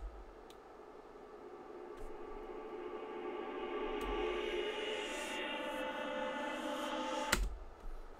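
A vocal track played back through a heavy reverb effect during a music production session, its tones smearing into a long, washy tail under a steady wash of sound, with a brief sharp click near the end.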